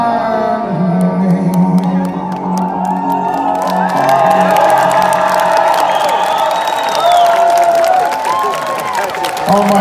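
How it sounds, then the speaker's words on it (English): Concert audience at a live show in Moscow cheering, whooping and applauding loudly, a sustained roar with shouts and whistles rising and falling over a lingering musical tone. "what a beautiful, beautiful crowd"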